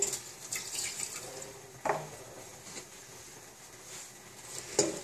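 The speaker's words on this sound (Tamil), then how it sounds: "4 டம்ளர் தண்ணி விடுறேன் வெண்பொங்கலுக்கு." Water runs steadily into a pressure cooker of rice and moong dal in a quiet room, with a couple of faint clinks of a vessel partway through.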